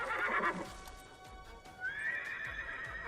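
A horse in a wartime film scene neighs loudly at the start, then a second, higher whinny rises and lingers more faintly, with no talk over it.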